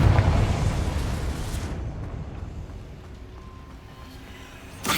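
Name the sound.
Confringo fire-blast spell exploding in video game Hogwarts Legacy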